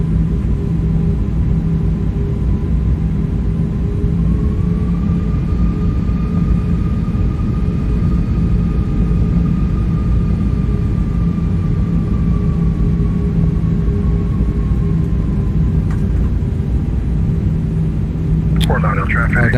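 Toliss A319 jet engine spooling in X-Plane 12, a steady loud rumble with a rising whine that holds, then a sharper burst near the end, constant throughout.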